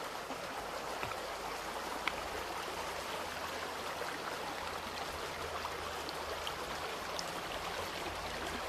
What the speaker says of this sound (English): I'm just gonna show you the water.